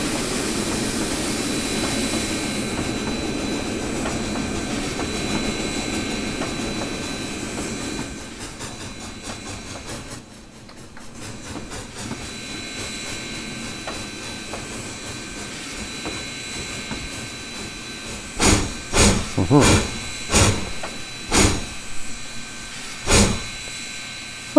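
A PRR I1sa 2-10-0 steam locomotive in the Trainz 2019 simulator brakes to a stop, with a steady rumbling hiss that eases off, followed by a series of short, sharp bursts of released steam or air near the end.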